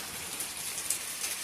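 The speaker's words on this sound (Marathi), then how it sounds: "तर हे बघा पावळ्यांचा मस्त पाणी गळता" Rainwater dripping and pattering from roof eaves in a Konkan village during a sudden summer shower, a soft continuous hiss with scattered drip ticks, no voices.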